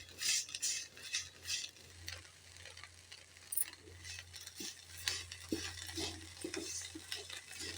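Curry leaves being stirred and fried in a pan for curry leaf rice, with a steady sizzle and repeated scraping and clinking of a spoon against the pan, close and fairly quiet.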